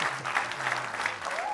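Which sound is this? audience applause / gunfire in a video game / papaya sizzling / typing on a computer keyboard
audience applause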